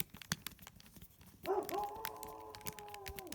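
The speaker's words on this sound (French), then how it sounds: "Il y a un chien à côté qui aboie." A nearby dog barks and howls in a drawn-out call partway through, over faint background noise and scattered clicks.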